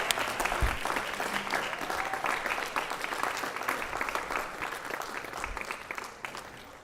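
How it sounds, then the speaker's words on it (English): An audience at a school board meeting applauds as students leave the stage. The clapping is steady and crowded, with no talking over it, and it tapers slightly at the end. "Let's give them another round of applause as they exit the stage."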